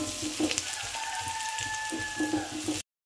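Flattened rice upma fries softly in a pan with a quiet crackle and intermittent stirring scrapes, a faint tonal hum underneath, then abrupt silence.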